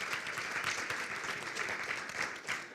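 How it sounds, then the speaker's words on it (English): A training event audience claps in steady applause, a dense crowd of hands patting continuously throughout at moderate volume, with no distinct voices over it. "give yourselves a hand"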